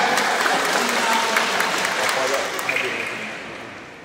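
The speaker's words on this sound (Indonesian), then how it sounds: "Tepuk tangan kepada Bapak." An audience applauds steadily, a dense, loud wash of clapping that holds for a few seconds and then gradually tapers off.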